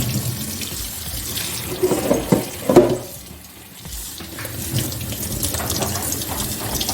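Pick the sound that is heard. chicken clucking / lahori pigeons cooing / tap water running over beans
tap water running over beans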